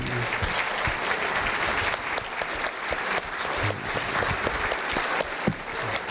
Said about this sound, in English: Can you all collectively stand so we can give you a big round of applause, please?